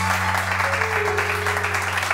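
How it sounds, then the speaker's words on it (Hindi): Studio audience on a Pakistani morning TV show clapping in a steady, even wash of applause over a constant low hum, with a faint voice briefly heard underneath. "बहुत सारी तालियां जी।"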